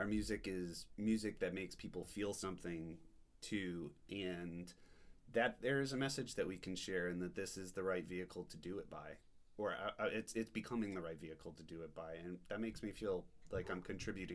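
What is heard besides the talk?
None of the usual background noises is heard.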